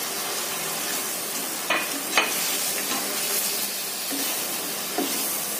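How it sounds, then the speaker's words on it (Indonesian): Chili and spice paste frying in a pan while being stirred until it wilts and thickens: a continuous close hiss and sizzle with occasional scraping stirs. "aduk sampai bumbunya menyerap dan mengental cabenya ini layu ya"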